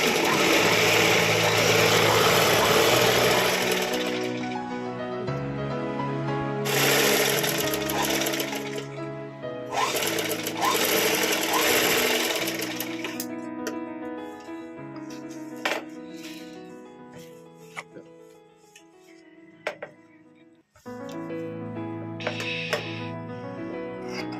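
Sewing machine stitching a silk saree into a long frock, running in long steady bursts with brief pauses between them, loud and close, with a few light clinks in the gaps.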